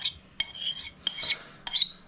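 A pork pie burger mixture being mixed in a bowl, with three brief clinks of utensil on bowl, each followed by a soft squelching smear, close and alone.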